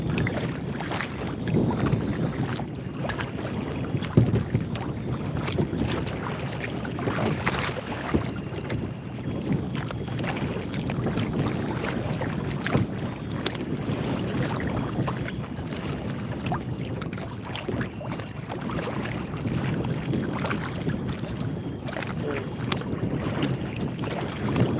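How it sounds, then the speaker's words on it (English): Strong wind over a lake buffets the microphone throughout from a fishing boat, a constant rough rumble with water slapping, no talk. "Oh man, this wind is brutal."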